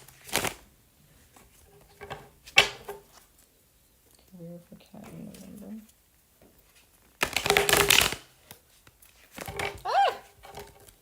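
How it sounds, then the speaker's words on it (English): Tarot cards being shuffled by hand in bursts of crisp riffling and brushing, loudest in two short spells, with a person talking quietly between them. "I never shuffled these cards this way."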